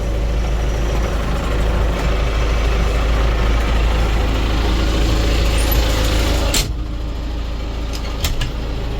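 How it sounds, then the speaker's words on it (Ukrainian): A tractor engine runs loud and close with a steady low diesel rumble, its tone shifting and dropping slightly near the end. "Зараз запускаємо трактор."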